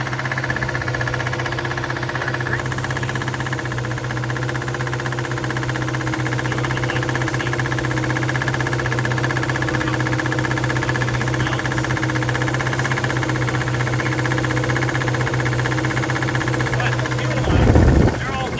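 A 1972 Ford Mustang convertible engine, with a walking crank pulley, idles steadily and close by for most of the stretch, a constant mechanical hum that ends in a brief louder rumble.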